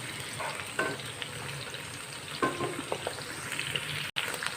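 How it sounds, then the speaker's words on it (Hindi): Ingredients for aloo chicken curry frying in hot oil, a steady close sizzle broken by occasional scrapes and stirring clatter, with no voices. "अभी ये फ्राई हो रहा है सब कुछ"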